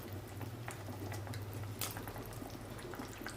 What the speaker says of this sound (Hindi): ए जुन बड़ी के आमी पानी लगे पकाई करी संगई रइलु